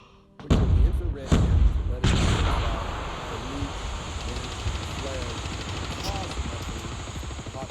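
Rapid bursts of gunfire and explosive booms in Call of Duty Mobile, loud and sharp at the start and then settling into sustained battle noise, with a player's voice speaking over the game.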